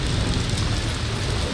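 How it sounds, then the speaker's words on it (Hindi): Torrential rain pours in a storm with strong winds and thunder over Balochistan, a dense, loud, continuous hiss and roar throughout, with no speech. "तेज हवाओं और गरज चमक के साथ होने वाली मूसलाधार बारिश"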